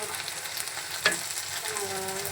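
Dried lotta fish being fried in a pan as shutki bhuna, a steady close sizzle with one sharp clink of a spoon against the pan midway, no talking.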